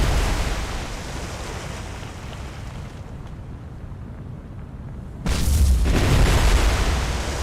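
Heavy rumbling blasts of secondary explosions inside a burning warship in the naval combat game War on the Sea, a steady deep roar that swells into a louder boom near the end.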